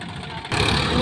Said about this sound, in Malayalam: കൊയ്യണ മെഷീൻ